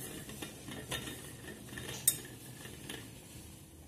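A utensil scraping and tapping against a pan while dark chocolate melts for eggless wheat-flour brownies, soft irregular strokes with one sharper clink midway, quiet and without speech.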